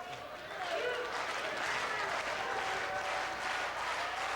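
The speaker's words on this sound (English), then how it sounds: "I was wondering if we can get all the audience to start clapping and get faster and faster" A television studio audience claps together in a dense, sustained wash of applause that gradually speeds up, heard at moderate distance with a voice faintly underneath.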